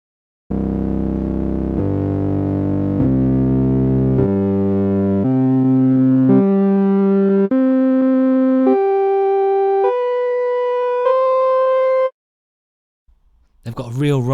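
A raspy, reedy multisampled Korg organ synth plays a rising sequence of sustained notes, one after another, loud and alone, ending in a brief burst of noise.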